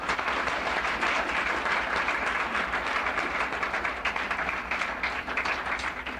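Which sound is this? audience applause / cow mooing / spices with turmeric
audience applause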